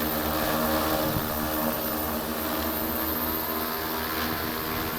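A NACDRONE NT10 agricultural drone with altitude-holding radar flies fast toward an earth mound outdoors. Its propellers make a loud, continuous buzzing roar that stays close and steady throughout, with no talking.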